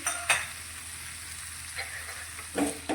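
A spatula scrapes and stirs dry potato curry with lemon juice and fresh coriander in a hot pan, giving a few short, gritty strokes over a soft steady sizzle, close and moderately quiet.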